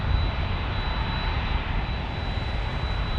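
A FedEx plane, one of a pair of Boeing 767s, at San Diego airport gives a steady, broadband jet roar that holds at an even level throughout.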